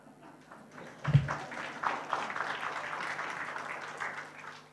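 Brief audience applause at a news outlet launch event where Karnataka CM Basavaraj Bommai speaks, a soft ripple of clapping that rises after a thump and stays moderate and somewhat distant.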